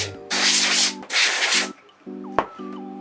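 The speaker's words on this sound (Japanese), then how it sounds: "これでホコリをこうのけてあげるともう一瞬で終わるんで時短なんですね。" Air duster blowing dust off a camera and lens during cleaning: two long hissing bursts of compressed air, followed by quieter rubbing and a sharp click, with a steady electronic hum throughout.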